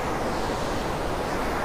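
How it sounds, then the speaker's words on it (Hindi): Water of a river below Rani Falls rushes continuously downstream during high, rain-swollen flow, a steady broadband roar with no breaks and no voices. "पानी नीचे तरफ बहते हुए जा रहा है"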